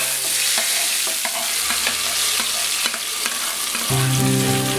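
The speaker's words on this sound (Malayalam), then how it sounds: "ചുവന്നുള്ളി മുറിച്ച് വെച്ചിരിക്കുന്ന രണ്ട് ചുവന്ന മുളക് അല്പം കരിയാപ്പില ഇതെല്ലാം കൂടെ മൂപ്പിച്ച് കടുവ് വറുത്തത് സാമ്പാറിലേക്ക് ഒഴിക്കാം" Shallots, red chillies, curry leaves and mustard seeds fry loudly in hot oil for a Kerala sambar tempering, a dense close sizzle with crackles and spoon scrapes, and a tonal hum joining near the end.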